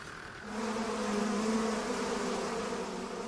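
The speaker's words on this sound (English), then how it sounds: "there are some very angry bees" Angry bees buzzing at beehives raided by a bear, a dense, steady swarm drone that swells after a moment and holds loud and continuous, with no voices.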